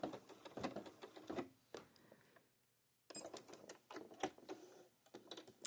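A sewing machine stitches in short bursts, back stitching to tie off a blanket stitch binding: rapid mechanical clatter, a brief pause, then more quick stitching, close and moderately quiet.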